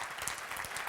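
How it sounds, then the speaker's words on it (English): A talk audience gives a brief round of applause, a short burst of scattered clapping with no voices over it. "thanks for the round of applause"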